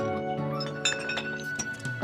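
Glasses clinking in a drinking toast at a meal, a few bright, ringing taps scattered over a background of low tonal sound, quiet and close with no speech.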